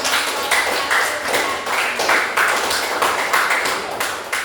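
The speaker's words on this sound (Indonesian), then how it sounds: "Kita beri tepuk tangan untuk" A classroom of students clapping for group presentations, a close, steady patter of hand claps in bursts lasting several seconds with no talk over it.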